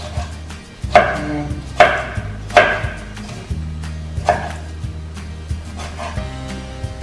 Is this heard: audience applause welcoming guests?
no